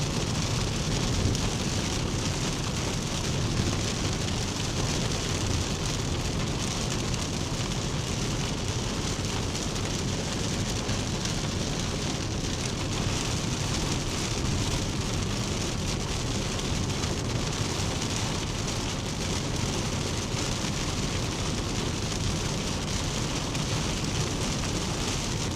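Heavy rain pounds steadily on a vehicle during a storm chase drive, a loud, unbroken roar of drops on the roof and glass lasting throughout with no voices.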